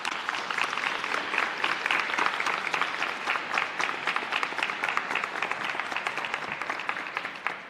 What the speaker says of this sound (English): they owe you a round of applause.